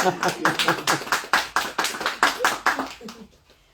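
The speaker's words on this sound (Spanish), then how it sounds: "Sacó aplausos su propuesta." A short burst of clapping from a small group at a book presentation, quick and fairly even, with Spanish speech mixed in, fading out toward the end.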